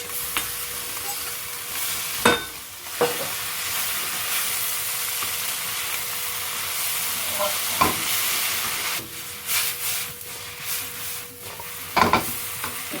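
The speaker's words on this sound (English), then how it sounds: "next I'm going to add the noodles and mix everything together" Indomie instant noodles being stir-fried with seafood in a hot pan, a loud continuous sizzle and hiss with a few sharp scraping strokes of the utensil spread through it, with no talk.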